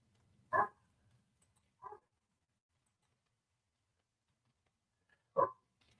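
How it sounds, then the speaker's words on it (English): A puppy barks from downstairs, three short separate yips and barks spaced out over several seconds, moderately distant in a quiet room. "I hear the puppy downstairs."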